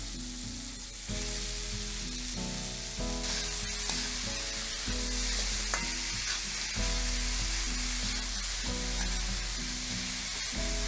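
Onion, spring onion, small red tomato, turmeric, red chilli powder and garam masala sizzle and fry in a pan, with repeated stirring scrapes over a loud, continuous sizzle.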